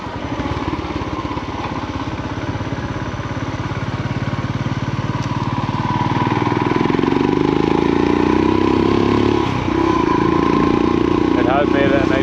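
A motorbike engine runs steadily and fairly loud throughout, its low rumble smoothing and rising a little partway through, with no talking.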